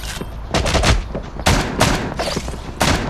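Gunfire in the horror video game Horror Brawl: several loud bursts of rapid shots come in clusters over steady background game noise, with no talk.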